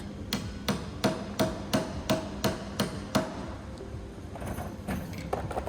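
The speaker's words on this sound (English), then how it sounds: "knock down, striking down with the hammer, bringing down all the high areas of the dent" A carbon fiber hammer strikes a dent in a car body panel during paintless dent repair, a steady series of about ten sharp, evenly spaced taps, then stops; quieter faint knocks follow near the end.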